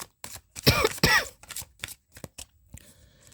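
Tarot cards are shuffled by hand in a quiet room, several crisp riffling bursts, two of them loud and close, followed by lighter taps and rustles.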